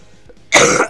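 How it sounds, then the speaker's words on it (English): A single sharp, close cough bursts out after a quiet moment, followed by a brief second rasp as the throat clears. "Ignore my cough."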